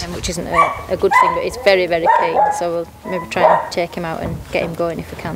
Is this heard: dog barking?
yes